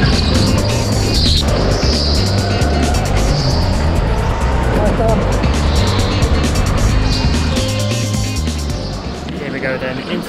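Electric go-karts racing on an indoor track, a constant whirring motor drone with tyre squeals and karts passing close, under steady commentary from a voice.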